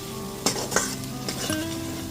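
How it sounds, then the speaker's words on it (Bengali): Fried potatoes being stirred in a pan with spices for a light ridge gourd and potato fish curry, with utensil scrapes and clinks over a steady sizzle, close and moderately loud. "আলুটা দিয়ে খুব ভালো মতো একটু মিশিয়ে নিলাম।"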